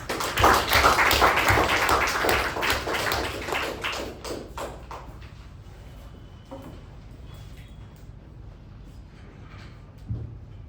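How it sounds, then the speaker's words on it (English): A Toastmasters meeting audience applauds to welcome the Toastmaster of the Day: dense, lively clapping for about four seconds, then thinning to scattered claps and quiet room sound. "Toastmaster of the Day, Toastmaster Pavani, with a thunderous round of applause"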